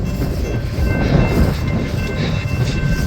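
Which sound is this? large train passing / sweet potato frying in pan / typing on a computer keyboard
large train passing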